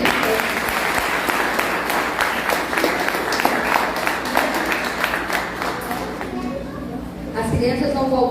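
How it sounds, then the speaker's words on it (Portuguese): A church congregation claps for a group of children, a dense, steady wash of applause that fills the room for several seconds, thins out toward the end, then swells again briefly. "Vamos bater uma salva de palmas para essas crianças?"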